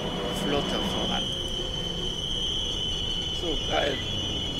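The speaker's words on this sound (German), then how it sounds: "Es sind noch nicht mal Anhänger an dem Zug, aber es funktioniert." Train without wagons running in the video game Transport Fever 2, a steady rumble with squealing wheels and a high tonal whine, with people talking over it.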